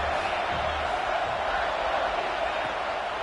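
A stadium crowd at an American football game roars during a third-down red zone play, a dense, steady wall of cheering that stays loud and unbroken throughout.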